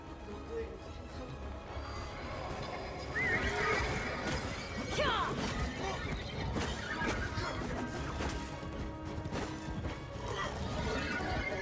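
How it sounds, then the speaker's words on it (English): A horse neighs and whinnies in the Warframe video game, the call rising over a dense, steady wash of game sound, with a faint clatter of hooves and impacts in the busy mix. "Oh, horsey."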